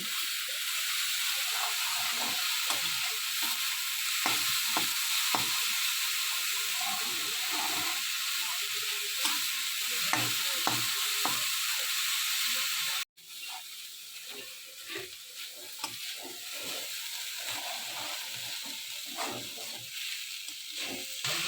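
Patishapta pitha filling is fried and stirred in a pan under a steady hiss and sizzle, with scattered soft scraping taps. There is a brief drop partway through, after which the sizzle continues more quietly.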